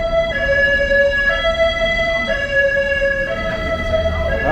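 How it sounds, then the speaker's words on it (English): A Mount Sinai ambulance siren wails with steady rising and falling tones, continuous, loud and fairly close, over a dull rumble of street noise on Broadway in New York City's Upper West Side. "that's the Mount Sinai Emergency Medical Services, ER, ambulance, EMT."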